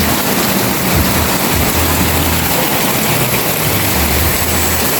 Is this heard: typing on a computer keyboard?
no